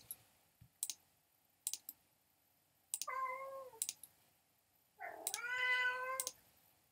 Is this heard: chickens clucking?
no